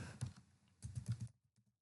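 Keys clatter on a computer keyboard as a column name is typed into a MySQL join query, two quick bursts of close keystrokes separated by a pause and trailing off into a few faint taps.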